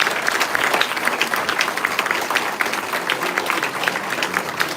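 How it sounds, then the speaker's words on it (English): An audience at a candidate forum applauds the trustees, a dense, steady round of clapping that fills the room for several seconds, close and fairly loud. "A round of applause for the trustees"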